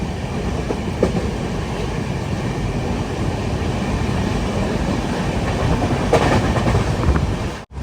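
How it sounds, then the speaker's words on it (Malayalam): Train rolling on rails at around 100 km/h in a 3AC sleeper coach of the Shraddha Sethu Express, a steady loud rumble with faint clickety-clack from the wheels, heard from inside, no talk. "ട്രെയിൻ ഇപ്പം 100 km/h തന്നെയാണ് പോകുന്നത്."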